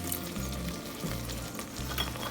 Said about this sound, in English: We will cook these until the veggies are soft, but they shouldn't be mushy.